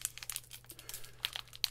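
Foil wrapping of a Lego Nexo Knights trading card pack crinkles and tears in quick, uneven bursts of crackling, fairly close and with no talking.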